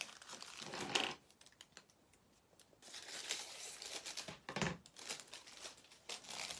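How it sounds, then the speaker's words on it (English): Tissue paper is handled and crumpled in quiet bursts, with crinkling rustles starting and stopping, a pause of near silence in between, close but soft and with no talking. "Let's get some more tissue paper."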